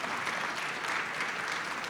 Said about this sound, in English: Can we have a huge round of applause for India and healthcare, please?